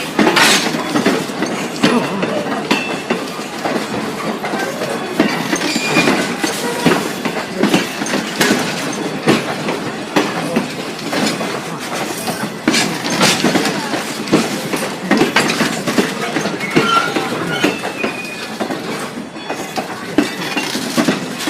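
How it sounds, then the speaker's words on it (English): Strasburg Railroad steam locomotive Engine 90 pulling passenger cars into a station, with continuous rumbling, clattering wheels and metallic clinks rolling past nearby for the whole stretch. "allow this train to move safely into the station"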